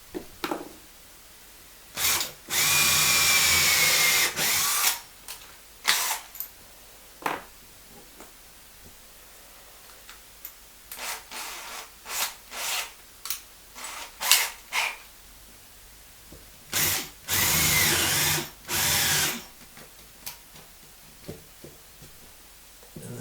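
A cordless drill whirs in several loud bursts, driving screws through a toilet pan into a bracket, two long runs and many short ones, with tapping and handling clicks between them.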